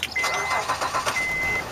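A car engine cranks and catches, a short run of rough, pulsing turnover bursts that settle into a running hum, heard nearby with no talking.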